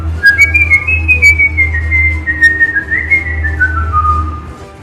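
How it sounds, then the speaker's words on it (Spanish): A person whistles a clear, wandering melody alone, each note sliding smoothly into the next, over a low steady hum. "Y me atrevo nuevamente para silbarlo."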